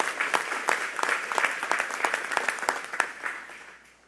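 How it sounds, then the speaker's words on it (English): Applause from an audience at a speech by New York Governor Kathy Hochul on organized labor, honoring the legislators present; dense, steady clapping fills the room, then tapers off toward the end. "let's give a round of applause to our legislators who are here for making that happen as well."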